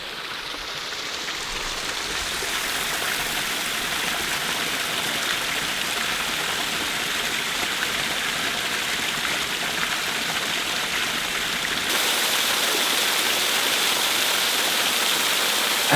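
Laurel Falls at Desoto State Park in Fort Payne, Alabama, running full with plenty of water: a steady, loud broadband rush of falling water that fills the whole stretch without pause or voices.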